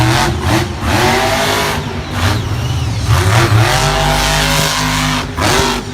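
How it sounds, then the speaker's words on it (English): The Max D monster truck's engine roars loud and close during a Monster Jam run in Tampa, revving and surging in repeated bursts with short dips, and a brief tire squeal joins in. "This Max D truck takes a lot of poundings, and Neil Elliott is having a good run"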